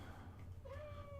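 A single short cat meow rises over a steady low hum in an indoor room, fairly close and lasting under a second.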